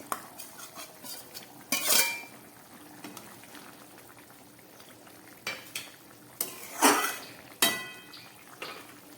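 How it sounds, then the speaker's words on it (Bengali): Fried shrimp tipped into simmering kudri curry in a pan, with metal spoon scrapes and clatters against the pan, a few louder clanks over a low bubbling simmer, no voices. "এবারে আমি এর মধ্যে দিয়ে দিচ্ছি এই ভেজে রাখা চিংড়ি মাছ।"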